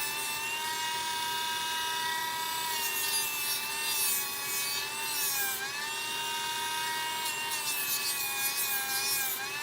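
Sandpaper rubs along the edge of a wooden Christmas jewelry box, a steady close scratching hiss over a constant motor-like hum, with rhythmic swells in loudness and no voices.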